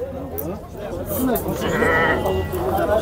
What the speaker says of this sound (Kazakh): Қозылар осы болып тұр базардағы